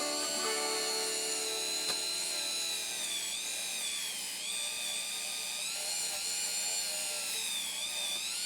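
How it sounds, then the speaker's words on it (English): A Dremel rotary tool whines at high speed in close range, a steady piercing spin with slight pitch wavers as it works during cleaning. "I'm going to clean my Dremel up a little bit before I try polishing."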